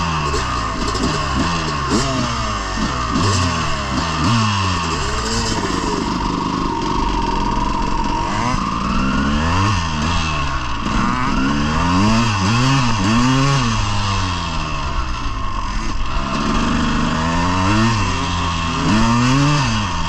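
Snowmobile on studded tracks running across ice, its two-stroke engine droning loud and close throughout, with repeated revving swells and pitch sweeps as the rider accelerates and eases off.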